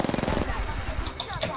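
Rapid video game gunfire rattles in quick repeated bursts at the start, loud and close, then fades into a noisy mix with faint voices.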